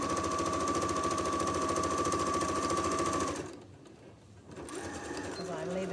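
Sewing machine stitches an apron in a fast, steady mechanical whir for about three seconds, stops briefly, then starts again more softly.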